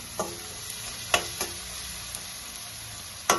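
Turmeric powder fries with onion and tomato in a pan over a raised gas flame, giving a quiet, steady sizzle broken by a few sharp clinks and scrapes of stirring.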